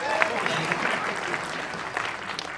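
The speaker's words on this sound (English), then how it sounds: "Gets applause." An audience at an awards event in New York breaks into a short burst of clapping, a dense patter of many hands close by, with a voice speaking faintly over it.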